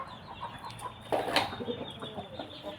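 A 2.8 kg chicken clucks softly nearby, with a brief flutter and a louder squawk midway amid low farmyard background noise.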